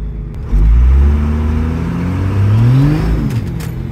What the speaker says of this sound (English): Okay, we need to do a few full throttle runs here.